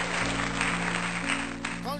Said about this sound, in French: Tu peux bien acclamer pour Dieu, on avance.